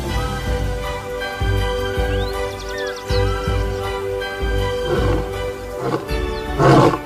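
A male lion in Zambia's Luangwa valley roars in deep, drawn-out rumbling bursts, loud and fairly close, with faint bird chirps and other wild sounds in the background.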